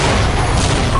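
A video game explosion as a dense, loud burst of noise holding for about a second, with nothing else heard.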